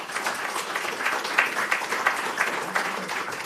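An audience at an energy and carbon seminar gives a speaker a steady round of applause, dense overlapping claps at an even level throughout, fairly close and with no voices over it.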